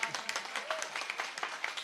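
Audience at a Hindi poetry recital applauding, a brisk, steady patter of many hands at moderate distance, lasting under two seconds, with some voices mixed in.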